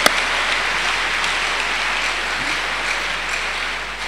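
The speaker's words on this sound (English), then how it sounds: "Let's clap unto God and appreciate Him." Church congregation clapping in praise, a dense, even wash of many hands, loud and continuous throughout with a steady low hum beneath.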